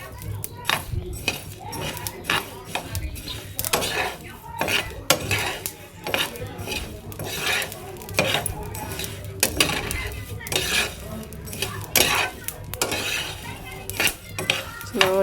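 A spoon stirs coriander seeds being roasted in a pan, with repeated metallic scraping and clinking strokes at an irregular rhythm, fairly close but moderately quiet, with faint background voices.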